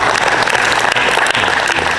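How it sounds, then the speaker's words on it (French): Audience applauding loudly at a karate tour event, dense continuous clapping from a crowd, close and steady for the whole stretch. "de vous applaudir bien fort d'être là et d'être fort"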